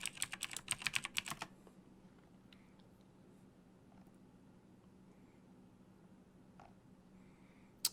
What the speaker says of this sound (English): We can type it in.